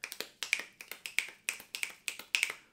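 Hands tapping back against back in alternation, a steady series of about fifteen crisp, close slaps at an even, quick rhythm, each one short and sharp with no voices.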